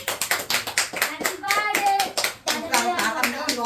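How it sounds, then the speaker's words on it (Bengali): A small group claps by hand at a home birthday celebration, quick uneven rhythmic claps close by, with children's and adults' voices chattering and singing over the clapping. "হাততালি দে হাততালি দে সবাই"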